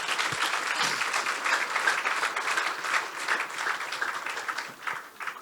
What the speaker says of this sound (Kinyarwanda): Kongere duhe umwami wacu Yesu amashyi menshi.